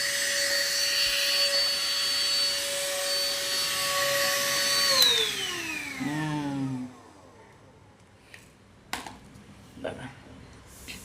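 A small handheld vacuum cleaner runs with a steady whine for about five seconds, then its pitch sweeps down as the motor winds off, followed by quiet with a few faint knocks.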